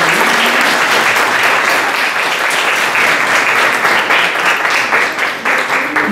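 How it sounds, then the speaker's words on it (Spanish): Audience at a talk on Palestine and racism against Indigenous peoples breaks into strong applause, a loud, continuous wash of many hands clapping that holds steady for several seconds. "demos un fuerte aplauso"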